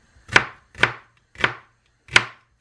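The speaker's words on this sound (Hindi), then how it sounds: "अब मैं ये प्याज काटूँगी एक बारीक बारीक" An onion is chopped finely with a knife on a board. Four crisp, evenly spaced chops land close and distinct, with near silence between them.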